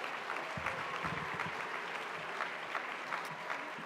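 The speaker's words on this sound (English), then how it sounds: "how about a nice round of applause for Elena here" A hall audience at an award night applauds a woman being thanked, a steady wash of many hands clapping, even and continuous, moderately distant and fairly soft throughout.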